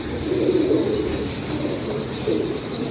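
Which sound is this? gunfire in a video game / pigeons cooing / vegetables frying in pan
pigeons cooing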